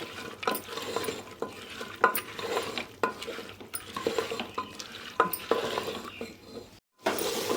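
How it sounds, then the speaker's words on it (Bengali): Soaked chickpeas being stirred into a potato mixture in a pan for chola ghugni, a continuous scraping and clacking of the spoon against the pan with a light sizzle underneath, close and steady throughout, with a brief pause near the end. "ছোলাটাকেও আমি ভালো করে এর সঙ্গে মিশিয়ে নেব"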